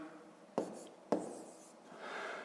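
A pen writing down a math answer on paper in a grade-five arithmetic lesson makes two sharp taps followed by a quiet scratching stroke, all faint and close with no talk.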